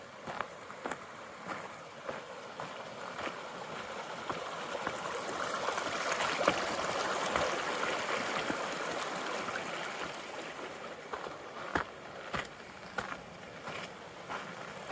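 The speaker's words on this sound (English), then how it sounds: "It's a lovely little creek." A small mountain creek rushes and babbles over rocks, a steady, fairly faint wash of water with occasional brief knocks and footsteps nearby, and no talking.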